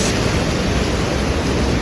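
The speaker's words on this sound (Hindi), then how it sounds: "Natural waterfall guys." A natural waterfall on a mountain trek near Kedarnath roars steadily at close range, a dense, unbroken rush of falling water filling the whole stretch.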